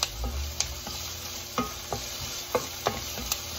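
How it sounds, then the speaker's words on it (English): Onion sautéing in a pan for fried rice, a steady low sizzle with a spatula scraping and stirring in irregular clicks and scrapes, close up, no talking. "So, saute the onion."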